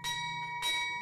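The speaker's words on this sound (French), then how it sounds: "La cloche a sonné jeudi pour la 5e fois" A stock exchange bell rings at a bond listing ceremony, with two loud metallic strikes, the second about half a second after the first, each leaving a sustained ringing tone, and no voices.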